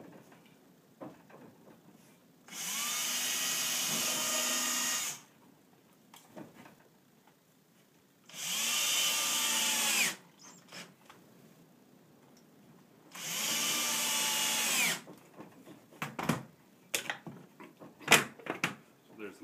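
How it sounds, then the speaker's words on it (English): A power drill driving drywall screws through plywood sides into the base of a small wooden miter box in a workshop, three steady whirring runs of about two seconds each, close and fairly loud, separated by quiet pauses and light handling knocks. "I will screw the sides to the base"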